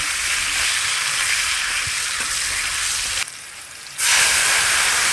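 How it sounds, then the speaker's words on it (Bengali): Raw mango pieces with salt are stirred and fried in a pan, making a loud, steady close-up sizzle that drops away briefly and then surges back, with no talking. "কাঁচা আমগুলোকে দিয়ে দিলাম। এর মধ্যে একটুখানি নুন দিলাম। এবার আমটাকে ভালো করে নাড়ালাম।"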